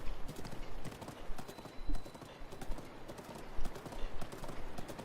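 Steady clip-clop of horse hooves from a mounted ride in a Master Mode game, a continuous rhythmic trot of close, moderately loud hoofbeats with some background game noise and no talk.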